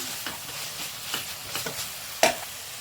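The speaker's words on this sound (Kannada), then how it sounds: "ಇದನ್ನು ಹಸಿ ವಾಸನೆ ಹೋಗುವವರೆಗೂ ಚೆನ್ನಾಗಿ ಫ್ರೈ ಮಾಡ್ಕೊಳ್ಳೋಣ" Ginger-garlic paste fries with onions in a pan for egg gravy, a soft sizzle under several distinct spatula strokes, ending with a sharper metallic scrape, and no one speaking.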